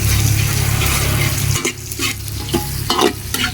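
Onions sauté in a pan for chicken adobo, a loud steady sizzle at first, then a series of sharp scraping stirs against the pan over quieter frying, close by and without talk.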